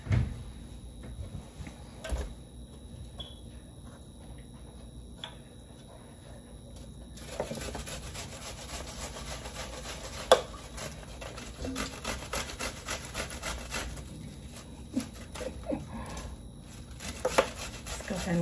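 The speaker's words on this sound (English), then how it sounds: "Let's go ahead and grate this watermelon" Watermelon being grated by hand for a Tongan otai drink, a steady scraping and rubbing texture that grows busier and louder partway through, with no talk over it.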